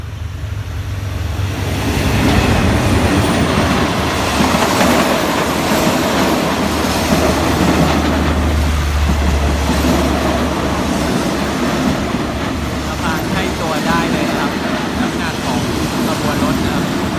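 A Thai express passenger train rumbles along steadily with rhythmic wheel clatter and low-end drone, gradually easing its pace past a tunnel construction site; a voice speaks over the noise.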